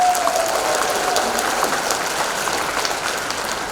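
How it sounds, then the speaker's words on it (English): An audience in a talk or seminar setting claps together, a dense, steady patter of applause that slowly tapers across a few seconds, with no voices over it. "Okay, let's give yourselves a big round of applause."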